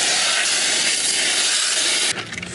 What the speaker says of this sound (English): And with the hose pipe, I have it on like the fan setting.